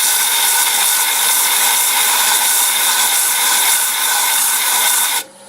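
A sanding board is held against an old board being turned into a bowl on a wood lathe, a loud, steady whirring hiss that runs unbroken and then stops abruptly at the end.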